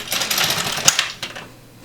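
An LK150 knitting machine carriage is pushed across a slip stitch row, giving a rapid clattering run of mechanical clicks that peaks sharply midway and then trails off.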